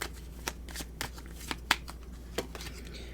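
Tarot cards being shuffled at close range, a series of crisp riffling bursts and soft slaps spaced irregularly over a quiet background, with no voices.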